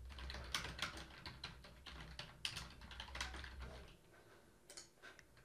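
Rapid, uneven clacking of fingers typing on a computer keyboard while entering website text, close and fairly quiet, with irregular bursts of keystrokes over a low background hum and no speech.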